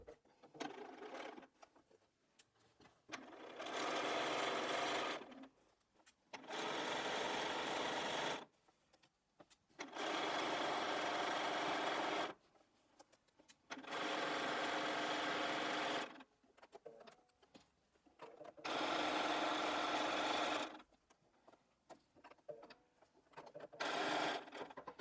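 A sewing machine tacks down a quilt edge about an eighth of an inch in, running in five or six steady bursts of a few seconds each, separated by short quiet pauses.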